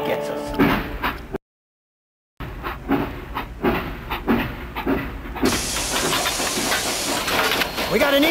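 A train in the Sega CD game Mad Dog II: The Lost Gold rattles with rhythmic clickety-clack and hiss under game speech. A brief dropout comes early, then the train noise builds to a steady, dense rumble.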